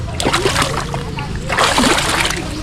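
Splashing in a cold spring pool of clear water at Bogac Cold Spring in Barobo, Surigao del Sur, with choppy sloshing bursts that come close and loud, a heavier flurry near the end, and faint voices mixed in.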